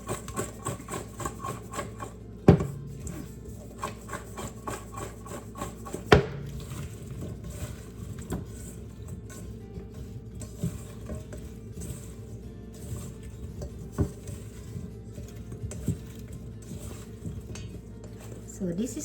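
Vegetables tossed with olive oil in a bowl make soft wet stirring and rustling with occasional sharp clinks of utensil against the dish, while a voice talks over it.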